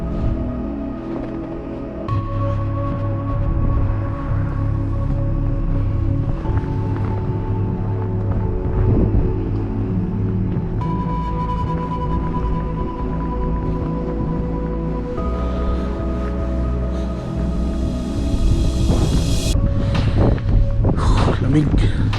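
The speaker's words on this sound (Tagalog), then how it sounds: "Pero malakas yung hangin." Strong, cold wind blows outdoors on a snowy Canadian day at about minus ten, buffeting the microphone with steady low rumbling gusts. A voice talks intermittently over the roar.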